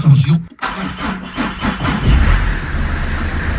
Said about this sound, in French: on va voir comment réagit le démarreur